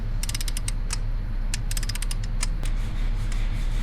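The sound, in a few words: torque wrench tightening bolts on Caterpillar D10T final drive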